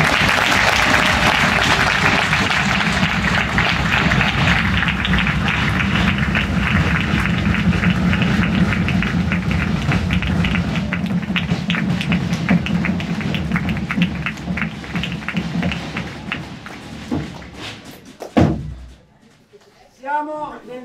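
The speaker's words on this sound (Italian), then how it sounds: "Un applauso!" Loud crowd applause at the 70th historic carnival of Castellamonte, mixed with voices and a busy outdoor throng, sustained for most of the stretch before thinning out with a few thumps near the end.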